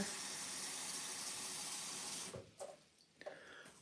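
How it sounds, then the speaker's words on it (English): Steady rush of water pouring into a coffee pot fills the first two seconds, then cuts off, leaving a few faint clinks and splashes nearby. "Water noise. Water in the coffee pot."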